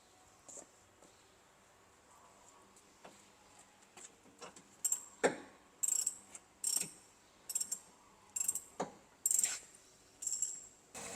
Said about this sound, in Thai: อันนี้หลังจากที่ใช้ไอตัวบล็อกมือนะคะ ใช้ประแจเบอร์ 14 ขันแล้วนะคะ